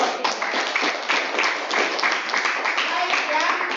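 A classroom of students claps for group 3 after their presentation, a dense, steady patter of many hands running the whole stretch with chatter mixed in.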